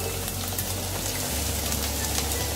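Small cubes of two onions hiss and crackle as they fry in hot oil in a pan, a steady close sizzle that runs throughout with a deeper low rumble shifting partway through.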